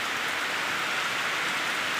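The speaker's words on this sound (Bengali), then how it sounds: "তোমাদের কি বলবো, এত পরিমাণে বৃষ্টি হচ্ছে।" Heavy rain pours steadily in a continuous, dense hiss, loud and close, with no voices over it.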